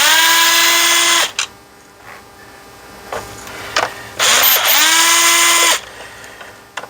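A power driver backs out T15 screws from the instrument cluster of an F250 diesel, two loud whining bursts that spin up and stop, with quiet clinks and handling noises in the gap between them.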